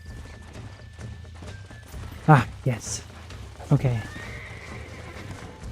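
Horse hooves and snorting from the Western video game Red Dead Redemption, a few sharp clip-clop bursts and a whinny over low background, with someone briefly speaking.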